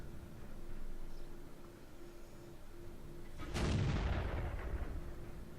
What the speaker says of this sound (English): So trying to fire a high explosive shell and not doing pretty much anything.